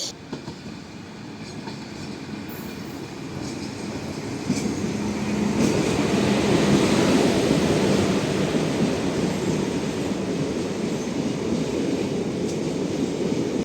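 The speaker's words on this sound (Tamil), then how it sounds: "நம்ம ட்ரெயின் விருதுநகர்லேருந்து காரைக்குடி அரைவாயிருச்சு" A train from Virudhunagar rumbles steadily nearby as it arrives at Karaikudi station, its low roar swelling and holding as it rolls in, with faint rail clatter and no voices.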